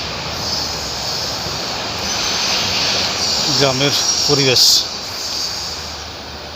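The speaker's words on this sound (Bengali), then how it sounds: "একটা ট্রেন মনে হয় আসতেছে।" A train rumbles steadily in the distance, swelling slightly as it approaches, while someone talks over it and insects chirp faintly.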